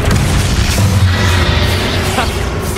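A Confringo spell goes off in the video game Hogwarts Legacy as a loud, sustained rumbling boom with a heavy low-end wash, continuing without a pause and with no clear speech.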